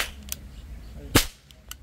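A toy cap gun fires outdoors, one sharp loud crack standing out among two fainter snaps within a couple of seconds.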